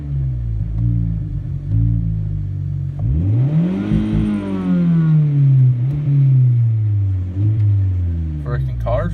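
A 2002 Volkswagen Jetta with the 2.0 engine revs hard after a cold start, its pitch climbing and falling in a loud sweep, with a steady rumbling idle before and after.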